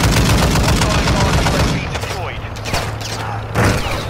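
Rapid bursts of gunfire crackle through a video game shootout on a bridge, dense and loud at first, then thinning into scattered shots and distant pops.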